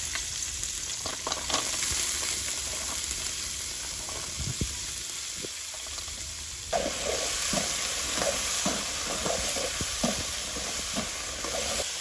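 Small river fish cooking with jackfruit seeds in a pan over a village fire, a continuous close frying sizzle with scattered scrapes and stirring knocks, louder after a fresh addition midway, with no voices.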